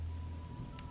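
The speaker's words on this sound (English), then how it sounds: "Just rain all the time." Brief patch of steady rain falling on surfaces in The Talos Principle video game, a constant soft hiss with a low hum underneath and no voices.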